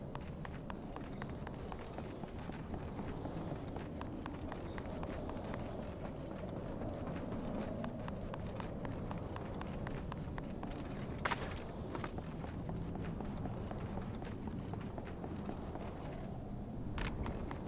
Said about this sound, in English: it does have unique footsteps, and this is what it sounds like on different surfaces